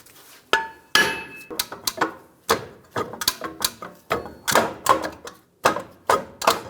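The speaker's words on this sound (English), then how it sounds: "just using a hammer and tapping in these locations" A hammer taps on the brake rotor of a 2011-2018 Ram 1500 during rear axle work, striking as a string of sharp, close metallic knocks in an uneven rhythm with short pauses between them.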